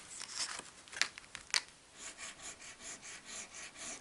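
A coin scratches the foil on a Dobble scratch-card ticket, giving a soft, close rubbing rasp with a few sharper scrapes early on, then a steady pulsing scrape of short repeated strokes.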